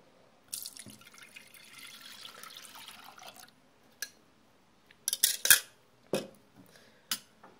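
Milk poured into a rice flour pudding mixture, a soft liquid stream for a few seconds followed by scattered clinks and drips of utensils.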